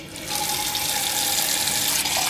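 Tap water gushes into a big pot holding two cans of condensed milk, set to boil for a caramel pie. The pour is loud, close and steady, starting after a brief moment and running without talk.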